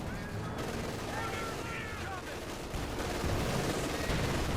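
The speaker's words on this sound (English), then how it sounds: "So much machine gun fire there." Continuous machine gun fire from a Company of Heroes 2 battle, with several guns firing at once against Panther tanks; a dense, steady rattle of bursts runs throughout, growing slightly louder toward the end, with background battle noise.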